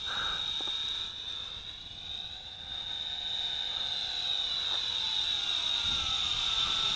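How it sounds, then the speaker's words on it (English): A large Fayee FY560 FPV quadcopter hovering and flying in headless mode, giving a steady, high-pitched motor and propeller whine that holds at a constant level throughout without voices. "I'm doing a headless mode flight right now."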